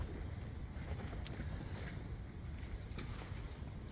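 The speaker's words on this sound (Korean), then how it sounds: "이 바람이 많이 부니까는" Strong, cold winter wind blowing steadily across an open farm with plastic greenhouse pipe frames, a constant roaring buffet with gusty flutters and no pauses.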